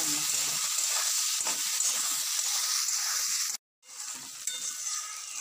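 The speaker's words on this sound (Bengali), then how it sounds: "এবার আমি পেঁয়াজ টমেটো কাঁচা লঙ্কা দিয়ে দেব" Onion, tomato and green chili sizzle loudly in a pan, a dense steady hiss close up that cuts out briefly then resumes, with no talking.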